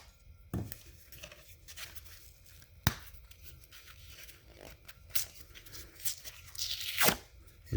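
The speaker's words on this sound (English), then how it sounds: "now I'm going to very carefully crack these off and peel it away" Drywall pieces cracked off along knife score lines and peeled from the backing paper during a blowout patch repair, giving sharp isolated snaps and crunchy tearing bursts, close and fairly quiet, with no talk.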